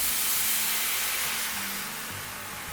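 Beef broth from cans is poured into a hot pan for Salisbury steak, giving a loud, steady hiss and sizzle of steam that slowly eases off.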